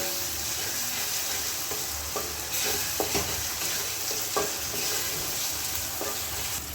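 Spice paste for a Bengali prawn curry sizzles and fries in a pan over medium flame, a steady loud crackle with intermittent scrapes of stirring and no voices.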